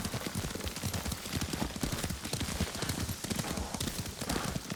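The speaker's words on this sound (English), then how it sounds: "Lord Sakai taught me to ride a horse." Horse hooves clip-clopping at a steady riding gait in the samurai video game Ghost of Tsushima, a continuous rhythmic trot heard close and clear over a soft ambient background.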